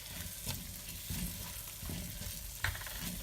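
Curry paste for Jamaican curry goat sizzles and fries in a pot while being stirred, with soft scraping strokes recurring every second or so over a steady low crackle.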